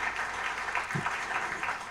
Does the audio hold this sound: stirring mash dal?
no